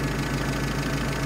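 A UAZ 31512's engine idles at about 800 rpm during ignition timing work, a steady, close, even rumble with a faint knocking texture and no talk over it.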